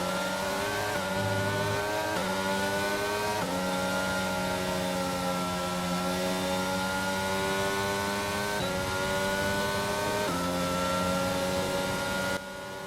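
A Formula One car's engine in the F1 22 video game at the Spain round screams steadily at high revs through a DRS-assisted overtake, its harmonics rising and falling with gear changes and throttle, loud and continuous throughout.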